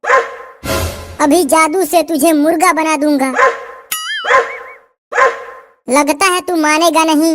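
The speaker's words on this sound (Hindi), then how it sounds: "ए कुत्ता, तू क्यों भौंक रहा है मुझे देखकर?" A dog barks in short bursts amid lively animated talking, with a brief chime in the middle.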